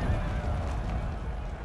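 Cavalry horses in Napoleon Total War give a short, loud neigh mixed with hoof clatter during a mounted clash.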